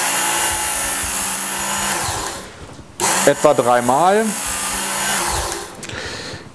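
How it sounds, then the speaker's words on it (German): A Work Sharp Knife & Tool Sharpener whirs steadily as a knife blade is drawn across its sanding belt. The hum stops while someone speaks briefly in German, then the motor runs again for a moment. "Ich schalte es ein und ziehe es jetzt etwa anderthalb Sekunden über das Schleifband."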